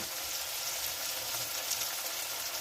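Chopped green chilli and tomato frying in a pan for an ilish-begun dish, giving a steady, even hiss of sizzling oil throughout with no talking.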